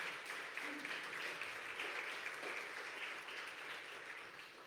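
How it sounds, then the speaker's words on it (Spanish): Congregation in a church applauding together, a steady wash of clapping held at an even level for several seconds, fairly distant and softly recorded. "Denle una ofrenda de palmas"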